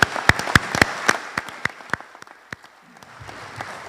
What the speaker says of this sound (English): yes, we give a clap for that.